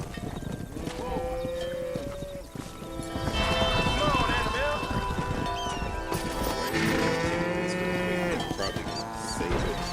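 Cattle herd lowing in the Red Dead Redemption video game, mixed with horse hooves clip-clopping and a neigh, plus game music and speech over a steady, busy ranch backdrop.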